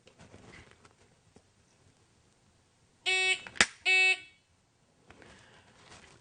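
A shot timer in a pistol dry-fire drill gives two loud, close electronic beeps, split by a sharp click, with soft handling noises and light movement before and after.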